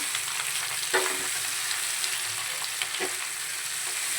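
Par-boiled potatoes stirred and lightly fried in oil make a continuous close sizzle, with a couple of brief utensil scrapes against the pan and no talk.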